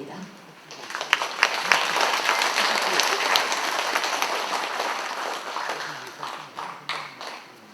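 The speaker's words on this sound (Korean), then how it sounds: "올라오실 때 큰 박수 부탁드립니다" An audience applauds steadily as a guest comes up to the stage at an invited lecture event, the clapping dense and sustained from near the start and thinning toward the end, with some talk mixed in.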